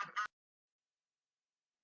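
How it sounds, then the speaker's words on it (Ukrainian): A single short goose honk, two quick close notes, followed by silence. "It is a goose."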